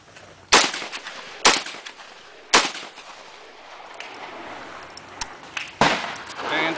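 An FN FAL self-loading rifle chambered in 7.62x51 NATO fires several single sharp cracks at irregular intervals outdoors, with reverberant tails and faint background noise between shots.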